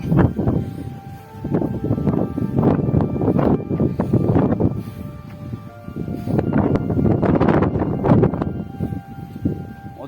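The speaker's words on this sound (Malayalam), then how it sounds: "ശക്തമായ കാറ്റുണ്ട്" Strong gusts of wind buffet the microphone in surging, roaring bursts that rise and fall over several seconds, on Maruthwamala hill.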